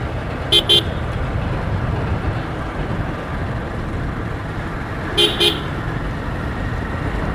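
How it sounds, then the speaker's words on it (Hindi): Two short double honks of a car horn echo inside a road tunnel, the first early and the second several seconds later, each standing out over a steady roar of road and engine noise. "टनल में हॉर्न देने का मज़ा ही कुछ अलग होता है"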